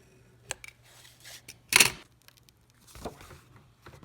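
A blade makes a first cut into a binder's cover, giving a few soft scissor-like snips and one loud, sharp slicing rasp partway through, then a softer cut, all close and quiet with no talking.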